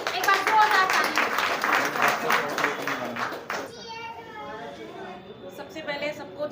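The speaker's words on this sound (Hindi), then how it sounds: "शशि सिंह जी, एक बार जोरदार ताली।" Audience at an International Women's Day ceremony claps rhythmically and loudly for a speaker, the clapping breaking off partway as a voice begins talking over lingering chatter.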